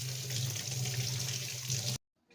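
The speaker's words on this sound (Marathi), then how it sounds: "प्रथम काकडी धुवून घेऊयात." A cucumber being washed under a running kitchen tap, a steady close splashing hiss of water that cuts off abruptly near the end.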